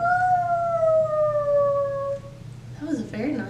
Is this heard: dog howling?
yes